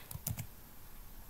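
A few quick keystrokes tapped on a computer keyboard while filling in text in a Word form, brief clicks close up with no voice.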